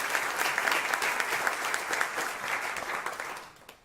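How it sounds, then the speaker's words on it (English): An audience at a ceremony opening the 14th annual DreamWeek in San Antonio claps steadily and loudly, then the applause fades toward the end. "This deserves like a round of applause for that."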